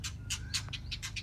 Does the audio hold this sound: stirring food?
no